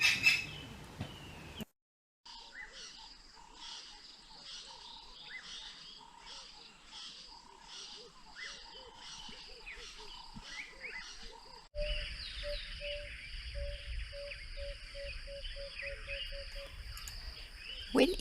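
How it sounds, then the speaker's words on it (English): Natal spurfowls call around a campsite in Kruger, repeated bird calls and chirps sounding at a moderate distance over an outdoor bed of insect noise, with a change in background ambience partway through. "we also had Natal spurfowls around us"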